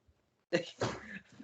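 A single sharp human sneeze bursts out after a short silence, followed by a brief breathy tail close to the microphone.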